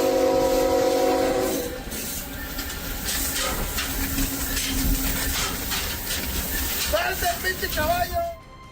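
A train horn blares steadily at the start, then gives way to rumbling rail noise and hiss with people shouting at a horse running along the rails ahead of the train, and brief horn tones near the end.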